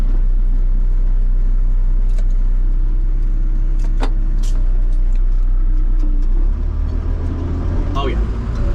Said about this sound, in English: Oh yeah, definitely engages the 6-wheel drive.